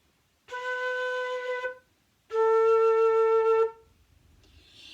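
Two sustained flute notes, B then A, played cleanly at a beginner warm-up pace, each held for over a second with a brief gap between, close and clear with no one talking.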